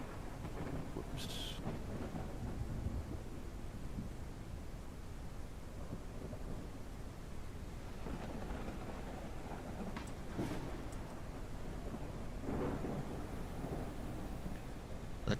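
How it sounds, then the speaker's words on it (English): A typhoon thunderstorm in a video game: steady rain hisses throughout beneath rolling, rumbling thunder, with a few sharper cracks, all fairly faint and distant. "The typhoon is here."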